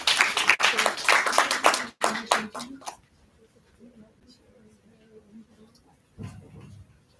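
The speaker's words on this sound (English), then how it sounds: "round of applause for ladies and gentlemen" A burst of clapping from a modest crowd at an essay awards ceremony in St. Lucia for about three seconds, then quiet with faint murmuring and a brief voice near the end.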